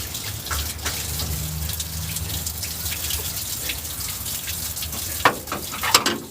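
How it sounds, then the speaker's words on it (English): Engine coolant pours and splashes out of a cylinder head during a teardown, a steady watery rush with drips and a couple of sharper spatters near the end, close and fairly loud. "That is the sound of coolant pouring out all over."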